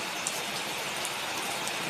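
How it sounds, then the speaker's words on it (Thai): Heavy rain falls outdoors during grass cutting, making a dense, unbroken hiss with scattered close drop patters and no voices. "ฝนตกซะแล้วครับ"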